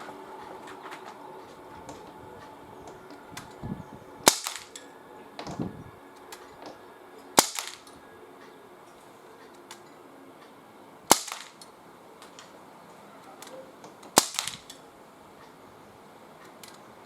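A GAMO MP-9 air pistol fires pellets outdoors on a gusty day, four sharp, separated cracks spaced a few seconds apart over a low, windy background.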